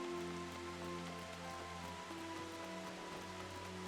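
Steady rain in the video game Final Fantasy XIV: Shadowbringers patters on a surface throughout, even and unbroken, with a low sustained hum underneath.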